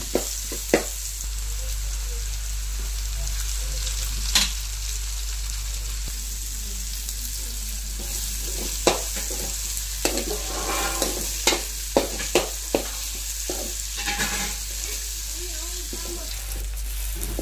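Chicken for a large Mangalore-style sukka batch fries with grated coconut, with a steady sizzle broken by repeated scraping stirs and clacks from the spoon and a few brief murmurs of voice in the background.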